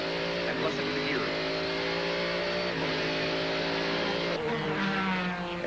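A Chevrolet-powered Spice GTP prototype race car at Laguna Seca accelerates through a corner, its engine whine climbing and dropping at each gear shift, loud and continuous, with commentary partly over it.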